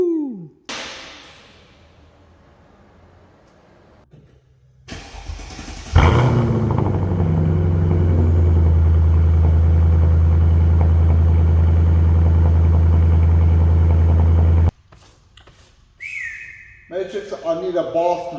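A Mercedes-Benz CL500 with a front lower control arm problem starts up and idles, settling into a loud, steady engine drone close by for several seconds before cutting off abruptly, with some voice and whistling around it.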